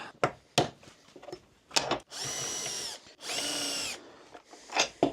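A power drill whirs in two short bursts while boring cabinet door hinge holes with a hinge jig, separated by sharp clicks and knocks of handling.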